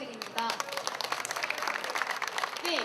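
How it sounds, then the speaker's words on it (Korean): An outdoor crowd of university students and citizens in Gwangju claps steadily through a candlelight memorial rally for the Sewol ferry victims. The dense applause holds at the same level throughout. "더숲과 역동 그리고 광주 시민분께 큰 박수 부탁드립니다"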